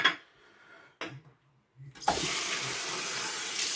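Tap water gushes steadily from a faucet for wetting skin before a shave, starting loud and close after brief splashes and staying constant to the end.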